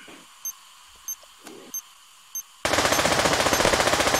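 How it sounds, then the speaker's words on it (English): Rapid automatic gunfire in the VR shooter Pavlov VR erupts loudly and continuously after a few isolated sharp shots spaced about half a second apart over a quiet background. "Stop shooting at me."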